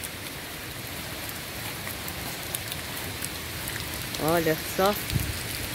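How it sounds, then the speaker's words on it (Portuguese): Steady rain in the Tocantins backcountry, falling in a constant, even hiss on surfaces nearby, with someone briefly speaking near the end. "Chuva no sertão do Tocantins."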